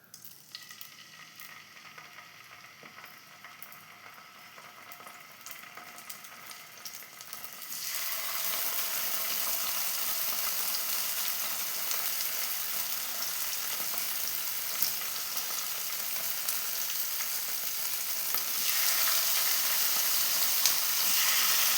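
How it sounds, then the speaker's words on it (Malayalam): Mackerel coated in masala mix drops into hot coconut oil and fries with a loud, steady sizzle that swells sharply after a quieter start and keeps crackling throughout, with no talking. "നമ്മളെ മീൻ മിക്സ് ചെയ്ത് വെച്ചത് ഇതാ ഞാൻ ഇട്ട് കൊടുക്കുന്നുണ്ട്."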